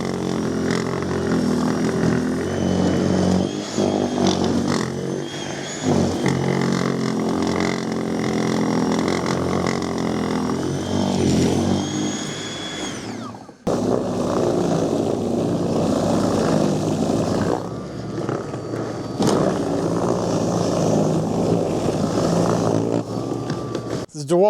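Cordless snow blowers, a Milwaukee M18 FUEL and a DEWALT 60V MAX, chewing through deep wet snow with a loud continuous motor and auger whine that shifts in pitch under load, briefly cutting out midway before resuming.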